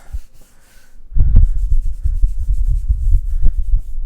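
Oil pastel rubbed around on paper makes close, soft scrubbing friction strokes in an uneven rhythm after a brief quiet start, with a low muffled rumble under each pass.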